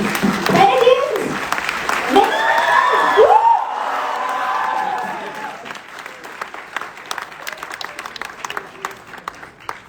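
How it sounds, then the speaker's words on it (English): Applause and scattered cheers rise from a student audience at a university, with voices calling out over it early on, then thinning to lighter clapping toward the end. "With a huge round of applause,"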